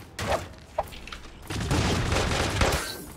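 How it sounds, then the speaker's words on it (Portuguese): Several sharp gunshot bursts crack out in quick succession in the video game Creative Destruction, some isolated pops followed by a denser, sustained volley of fire. "mais um tiro"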